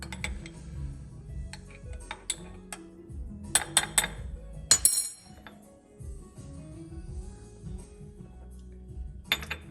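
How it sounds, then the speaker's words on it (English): A spoon clinks against the inside of a cup while stirring espresso coffee, giving a few light, scattered ticks and taps at close range, quiet overall with a sharper clatter midway. "You get a spoon, we'll stir it up."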